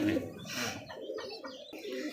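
Pigeon cooing, likely from one of the birds in a collection offered for sale, a soft low murmur repeating a few times over about two seconds, fairly close, with some chirps and background noise around it.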